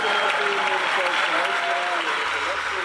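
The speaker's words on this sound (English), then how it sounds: "Make that 4 standing ovations." Dense, sustained standing ovation from a large crowd at a drum corps season-opening competition, with voices and cheering mixed into the clapping throughout.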